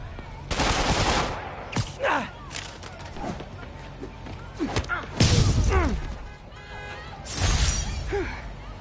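Bursts of gunfire from Marvel's Spider-Man, several loud volleys clustered in bursts with crashes and thuds mixed in, and game voices talking between and over the shots.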